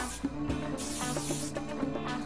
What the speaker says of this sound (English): then spray again with a bit of hairspray to secure